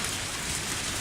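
Rain falling in the video game Lucky Dog 1+ Bad Egg: a dense, steady hiss of rain on surfaces, loud and even throughout the short stretch, with no voices.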